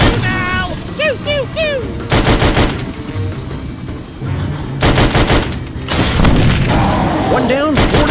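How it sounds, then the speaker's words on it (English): Rapid bursts of gunfire from the VR game Sam & Max: This Time It's Virtual, loud repeated volleys separated by short pauses, with cartoonish voice squeaks and game effects between the bursts. "Hey, big guy! I'm shooting!"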